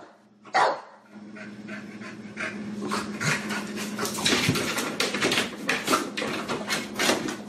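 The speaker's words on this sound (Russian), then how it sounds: "Бедный песик даже ругается на лакомство." A short-legged bulldog grumbles and pants while straining toward cream it cannot reach, with a sharp yelp near the start followed by continuous close, rough grumbling, huffing and whimpering sounds.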